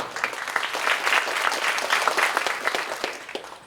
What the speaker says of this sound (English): Let us give a warm round of applause to Dr. Primit.